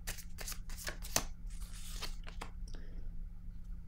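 A deck of tarot cards is shuffled close by in a quiet room. A run of soft, quick riffling bursts comes first, followed by a few fainter rustles.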